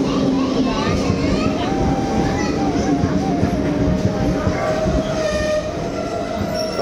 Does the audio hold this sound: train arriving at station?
yes